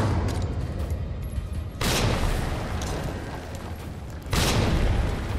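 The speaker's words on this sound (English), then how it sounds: "I just threw two grenades at it, and the first one killed it" Two heavy grenade blasts in Resident Evil 3 Remake, each a sharp booming explosion a few seconds apart over a constant low rumble, with no talking.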